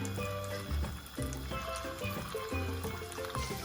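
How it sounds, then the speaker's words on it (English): Cooking oil poured into a frying pan for tuna balls, a close, steady glugging pour with a rising filling tone throughout. "now we're going to add our oil to our pan"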